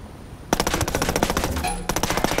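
Automatic gunfire from the video game Ghost Recon Wildlands, rapid loud bursts of shots that start abruptly and continue densely, with a brief lull before another volley.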